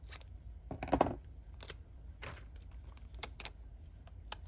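Scissors cut through a watercolor postcard with a handful of close, crisp snips spread across a quiet, low-hum background.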